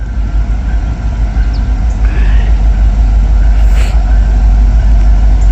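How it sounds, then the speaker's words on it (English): A Norfolk Southern freight train rolls past near a park campground, giving a loud, steady low rumble with faint squeals and clatter on top, and no voices. "Norfolky Southern"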